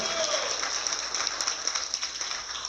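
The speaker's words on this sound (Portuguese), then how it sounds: "uma salva de palmas ao Paulo, por favor" Crowd applause at Agrishow, the agricultural trade fair, for the president of the Ribeirão Preto rural union: a steady patter of many hands, with a faint voice early on.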